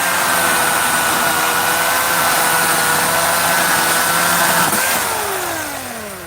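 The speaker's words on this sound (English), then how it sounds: "and then you gotta get used to the chainsaw" A chainsaw runs loud and close while cutting in a suburban homestead garden, a sustained buzzing engine roar that holds steady, then dips in pitch and fades near the end.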